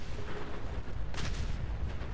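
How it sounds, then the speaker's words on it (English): Fallout 4 video game explosion, a deep rumbling blast that bursts out about halfway through over low background noise, followed by trailing booms, with no talking. "Double explosion."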